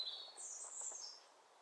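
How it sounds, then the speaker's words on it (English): Birds sing outdoors in the background, a few faint, high chirping phrases drifting in and out over quiet ambience, with no voices present. "you can hear the bird song in the background"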